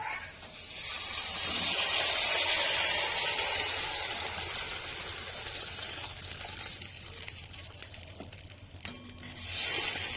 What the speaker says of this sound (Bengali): এবার আমি সামান্য একটু জল দিয়ে দেবো